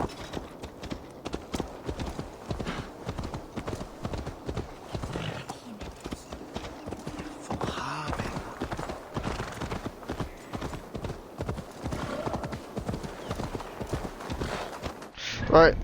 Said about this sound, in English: That's my horse, isn't it?